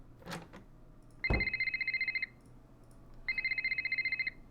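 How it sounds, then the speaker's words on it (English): A telephone rings in the Nancy Drew: The Silent Spy video game, two bursts of rapid trilling electronic bell tones separated by a pause, clean and moderately quiet after a brief knock. "The phone."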